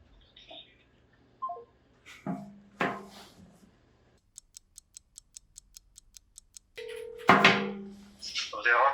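A phone call is placed to a used-car dealer: regular clicking ticks like a ringback tone sound for several seconds between bursts of short sounds, and people talk before and after.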